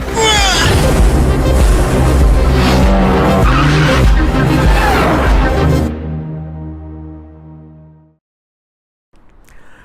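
A Dodge Charger SRT8 with its 6.1 V8 roars loudly and close, a dense throaty blast that holds for about six seconds before winding down and falling silent, with a faint sound returning at the end.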